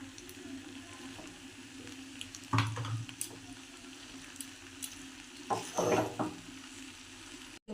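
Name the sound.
pasta stirred in a pan with tomato and chili sauce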